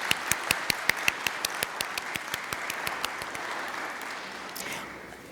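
Applause from an audience at a university baccalaureate service, a dense wash of many hands with sharp individual claps standing out early, gradually thinning and fading over several seconds.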